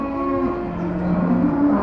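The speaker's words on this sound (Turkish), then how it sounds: "Yerli hayvanlar. Boz inekler." Grey native cattle on a farm lowing steadily and loudly at close range, a sustained deep moo with rich harmonics that swells slightly toward the end, with no talk over it.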